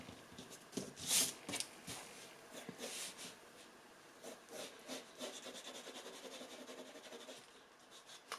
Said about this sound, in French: Je vais gommer un peu là parce que ma jambe est beaucoup trop foncée.